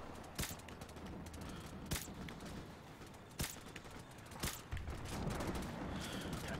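Gunfire in the video game Call of Duty 4 Modern Warfare comes as four sharp, separate shots spaced a second or more apart. It sounds fairly faint over a low, steady background, and no one talks.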